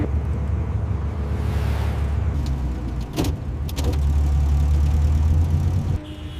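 A car engine idles steadily at close range while the car waits at a red light, a low continuous rumble with a few brief knocks and clicks inside the cabin.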